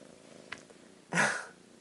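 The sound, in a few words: cat purring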